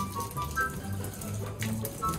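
A garden water hose sprays onto a seat to wash it outdoors, giving a steady hissing gush of water with faint background voices.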